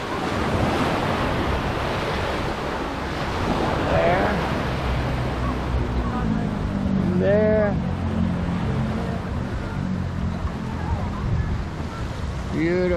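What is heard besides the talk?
ocean waves on Naga Beach, Samar, Philippines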